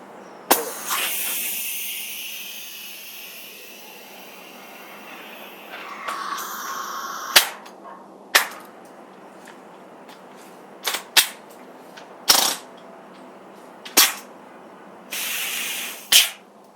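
A Tippmann M4 paintball marker running on a CO2 magazine fires a series of sharp, hissing pops, irregularly spaced and loud up close, with a longer gassy hiss and mechanical clatter partway through.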